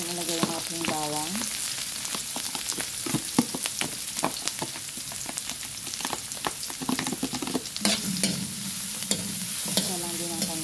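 Garlic fries in a pan for pancit canton with chicken liver, giving off a continuous close sizzle while a utensil scrapes and taps the pan in irregular stirring strokes, with a few short tonal squeaks at the start and end.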